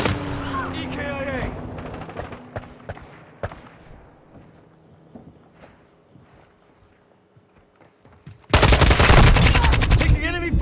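Gunfire in Call of Duty: Modern Warfare II multiplayer: sharp scattered shots and bursts over several seconds, quieter in the middle, then a sudden loud, dense volley near the end, with game voice callouts mixed in.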